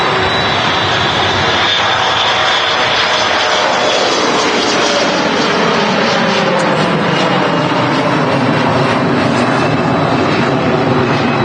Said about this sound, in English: Oh, I love that sound. It's planes everywhere at the moment, isn't it?